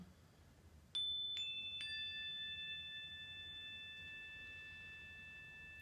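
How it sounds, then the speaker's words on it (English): A meditation bell is struck three times in quick succession to mark each flow, its clear, quiet tones ringing out and slowly fading in a still room. "I'm going to ring the bell with each flow"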